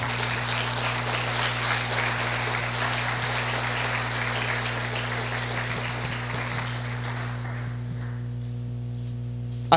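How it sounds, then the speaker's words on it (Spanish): A church congregation applauding the Lord during a Spanish-language service, with steady sustained clapping for most of ten seconds over a constant electrical hum before it thins out near the end. "Dele un aplauso al Señor."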